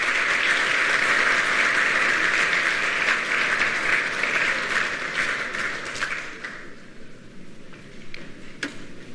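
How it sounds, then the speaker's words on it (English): An audience claps after a talk, a dense, loud round of applause that holds steady and then thins and fades toward the end, with no talking over it. "If you want to clap, you can clap now."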